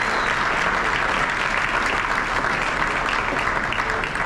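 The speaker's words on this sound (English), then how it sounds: "let's get one more round of applause" A crowd applauding steadily and loudly at a high school basketball end-of-year awards banquet, dense clapping throughout without a break.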